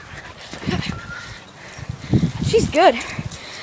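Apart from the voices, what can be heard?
dogs whimpering and yipping during a play chase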